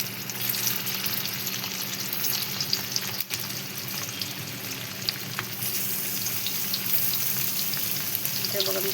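Stuffed bitter gourds sizzle in hot oil on a flat pan, a dense, continuous crackling fry heard up close with occasional small pops and no talking.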